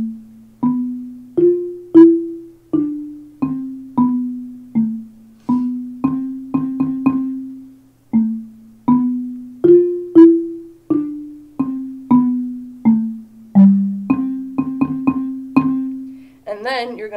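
A low-pitched xylophone plays a simple melody of single struck notes in a steady pulse, each ringing briefly, some quickly repeated, clear and close.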